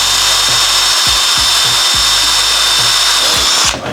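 A power drill whines steadily and loudly while boring out a metal fridge door hinge, with rhythmic grinding bites as it cuts, then winds down at the end.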